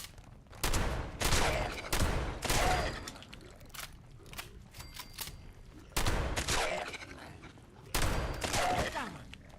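Gunfire in the video game Fallout 76 comes in several loud rapid bursts, sharp and close, with short pauses and quieter gaps between volleys.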